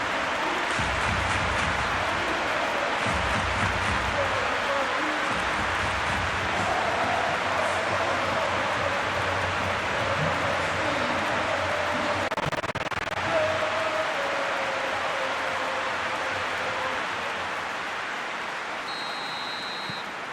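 Stadium crowd in a PS5 football match between FC Barcelona and Real Madrid, a steady roar and applause filling the whole stretch, loud and continuous with no clear breaks, slowly easing toward the end.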